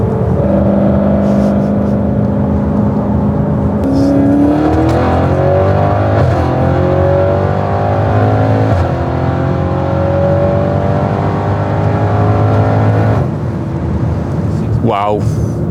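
A 700+ hp Audi RS6 drives along a road, its engine droning loudly and close, with repeated rising pitch sweeps as it accelerates through the gears, and a brief high whine near the end.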